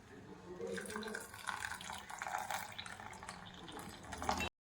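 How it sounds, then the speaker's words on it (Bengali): Whey from freshly split milk pours and drips as chhena is strained through a cotton cloth, a continuous close splashing trickle that stops abruptly at the end. "তো আমি একটা সুতির কাপড় নিয়েছি, কাপড়ে ছানাটাকে আমি এইভাবে ছেঁকে নেব।"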